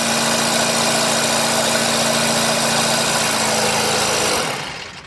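Engine of a 1977 McLaren M24 Cam2 Indy 500 racecar running; a loud, steady idle with a strong constant hum that holds evenly before dropping away as it shuts off at the end, no voices.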